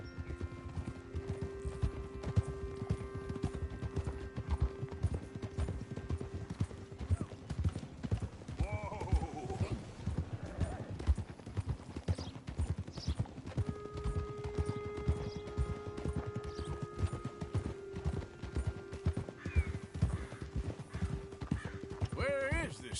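Horse hooves clip-clopping at a steady walking pace in Red Dead Redemption 2 on PS4, continuous and rhythmic beneath game dialogue, with occasional whinnies and a bed of background music.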